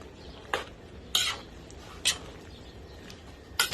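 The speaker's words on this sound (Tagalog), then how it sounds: "Ito po, aluin na natin kasi po kumukulo na." A utensil stirs pancit guisado with upo in a boiling pot, four distinct scraping knocks against the pot at irregular intervals over a faint simmering background.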